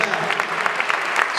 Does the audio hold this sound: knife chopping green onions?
no